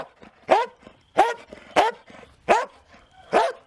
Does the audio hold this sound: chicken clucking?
no